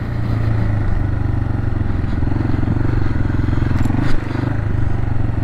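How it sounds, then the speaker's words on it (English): A motorcycle rides through San Bernardino and jumps a curb. Its engine drones steadily and loudly at close range, and a brief jolt near the end may be the impact with the curb. "I think we're going to just jump a curb for no reason right here."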